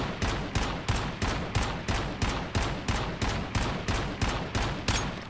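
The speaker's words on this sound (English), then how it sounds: "So I'm gonna just shoot over here an entire clip." Steady automatic gunfire emptying a full magazine in the video game Once Human, a dozen evenly spaced loud shots in a regular rhythm, close and without talk.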